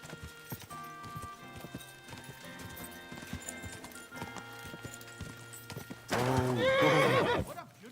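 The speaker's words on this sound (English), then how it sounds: "What a beautiful horse!" Horse hooves clip-clop steadily in Kingdom Come Deliverance 2, with a loud, close whinny breaking out near the end over the busy game soundscape.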